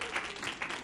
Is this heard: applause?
yes